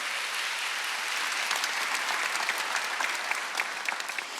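A congregation at a Korean church Wednesday worship service claps steadily and continuously, a dense, even wash of many hands with no break throughout.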